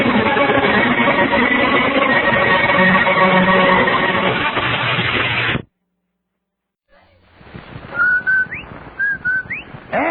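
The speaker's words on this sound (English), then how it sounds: "That's the Rinso White whistle." A rising two-note whistle from an old-time radio broadcast advertising Rinso White soap sounds several times in quick succession, clear and prominent, after a dense stretch of music and a brief silence.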